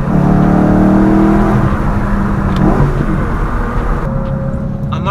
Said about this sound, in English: see if you guys can hear the downshifts at least